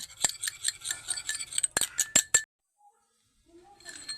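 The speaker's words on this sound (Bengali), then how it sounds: "জলের সঙ্গে অ্যালোভেরাটা ভালোভাবে মিশিয়ে নেব" A spoon clinks rapidly against a glass container while aloe vera gel is stirred into water, a quick run of bright taps that stops abruptly, then faint stirring resumes.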